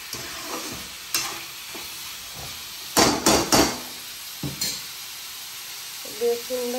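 Onions fry for a curry in a home kitchen, with a steady soft sizzle under sharp scraping and clanking stirs against the pan at irregular intervals, close and fairly quiet.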